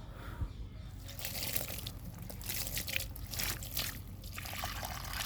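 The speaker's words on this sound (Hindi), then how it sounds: "तो अब इसमें पानी डालेंगे।" About a mug of water poured into a potted croton plant: a soft, close trickling and splashing that swells after the first second and continues unevenly, fairly quiet, with no talk.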